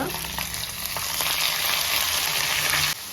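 Grated radish tipped onto onions already frying in a pan, giving a steady, loud sizzle that runs throughout and drops off sharply near the end, with no talking.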